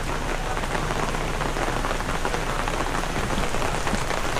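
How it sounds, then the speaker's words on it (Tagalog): Heavy rain pours steadily during a bicycle ride in Sto. Tomas, Batangas, a dense, loud hiss of drops drumming on surfaces with no break. "So ayan, lakas ng ulan ngayon."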